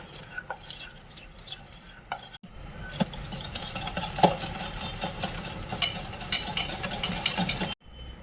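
Sugar, oil and yogurt being mixed together for cake batter, a steady scraping, ratcheting stir in a bowl with repeated rhythmic strokes and light clinks, close and continuous with a brief pause.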